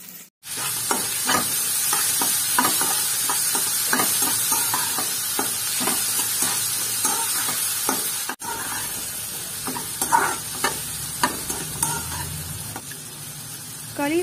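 Onion and tomato fry in a pan for bitter gourd curry, giving a steady sizzle that is broken by repeated scraping stir strokes and a brief clatter midway.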